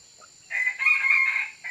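A chicken calls once up close, a single drawn-out clucking cry lasting about a second over otherwise quiet surroundings, with no talking.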